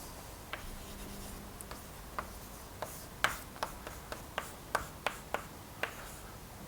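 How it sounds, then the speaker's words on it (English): Chalk writing an equation on a blackboard during a mathematics lecture, a series of sharp taps and short scratchy strokes at an irregular pace, close and fairly quiet, no talking. "let me write the equation here"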